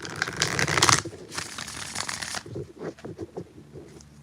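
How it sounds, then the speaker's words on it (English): Tarot cards are shuffled by hand during a live reading, giving a close, riffling flutter that is loud at first, then breaks into softer, uneven card taps and slides with no talking. "All right, 4 shuffles."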